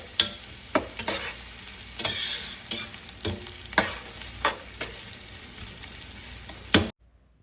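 Onions fry in a pan with salt while being made ready for biryani. A steady sizzle runs under repeated scraping stirs that come roughly every second, close and clear.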